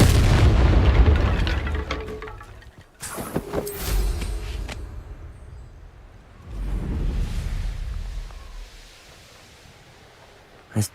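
The Bombarda explosive spell in Hogwarts Legacy, cast during a fight with goblins, lands as deep booming blasts with sharp cracks and rumbling tails, mixed with other combat noise and a shouted voice.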